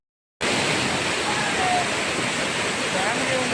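A steady, loud roar of the Seethar Kundu waterfall starts abruptly and holds constant, a dense rushing wash with no breaks.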